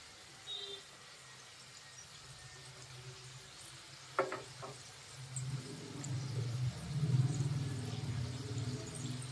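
Sweet singaras deep-frying in oil, a soft bubbling sizzle that swells toward the end, with a brief clink of a utensil and faint background noise.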